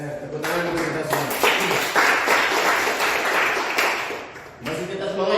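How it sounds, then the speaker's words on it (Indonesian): Classroom applause during a teacher-training performance exam lesson at UIN Bukittinggi, a dense burst of many hands clapping that swells through the middle, with voices talking at the start and end. "Tepuk tangan dulu kita semua."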